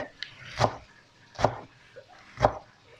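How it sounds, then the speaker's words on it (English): Onions are finely chopped with a knife on a board, three distinct, evenly spaced thuds close by, with a faint lighter tap before them. "We chop the onions"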